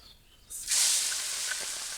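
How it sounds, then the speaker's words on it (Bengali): Small fish dropped into hot oil in a wok set off a sudden loud, sustained hiss and sizzle that stays steady after the first burst, no talk. "কড়াইতে তেল দিয়ে দিয়েছি তেলও গরম হয়ে গেছে এখন আমি মাছগুলো দিয়ে দিই"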